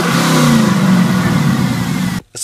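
Kia Sorento 2.4-liter engine fitted with a K&N air filter revs loudly and steadily up close for about two seconds, then cuts off abruptly into near silence.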